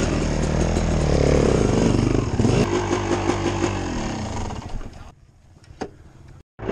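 A dirt bike in a cold-weather hare scramble race pulls away with a loud, close engine roar that revs and then fades to quieter running, ending with a few brief drops and bumps.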